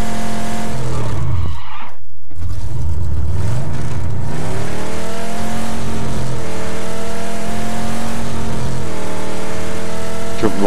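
A car drives in the video game PUBG, its engine droning loudly, then cutting briefly before revving back up with skidding tires and a steady rising whine through the rest of the drive.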